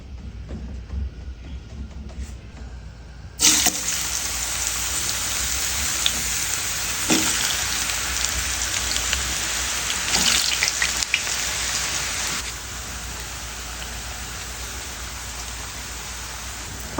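Camote chips sizzle in hot oil in a pan, a sudden loud, steady hiss of frying bubbles that holds for over ten seconds with occasional spatters before easing slightly.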